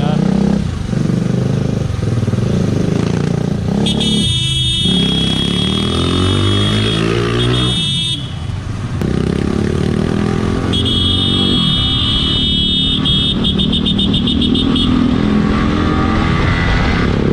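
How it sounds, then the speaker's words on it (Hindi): A TVS Apache RR310 motorcycle fitted with an aftermarket exhaust gives a heavy, steady engine drone on a road with traffic. Someone talks over it throughout, and brief horn-like tones sound in the background. "इसने एग्जॉस्ट लगा रखा है ना, इसका साउंड भी काफ़ी ज़्यादा हैवी निकलता है यार।"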